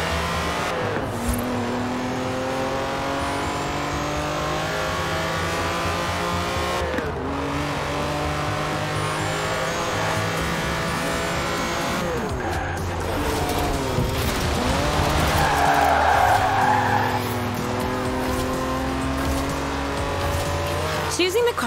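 A Lamborghini Countach races in Forza Horizon 4, its engine loud and close as it revs up through repeated gear shifts, with tires squealing and skidding in places while someone talks over it.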